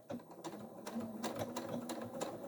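Sewing machine stitching forwards along the lining of a triangle zipper bag, a quiet, steady rapid clatter of the needle with a few rhythmic pulses, close and alone.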